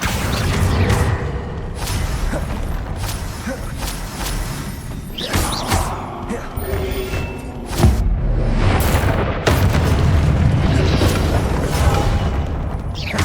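Spell effects from Hogwarts Legacy as the Incendio fire spell is cast: loud, dense booms and fiery whooshes with crashing bursts, sustained throughout with several sharp impacts and no talk.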